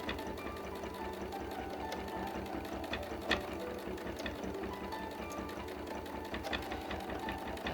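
Sewing machine running steadily at a moderate speed during free-motion quilting on a fabric-painted lily quilt, with a dense, continuous mechanical whir and rapid needle rhythm, close and even throughout.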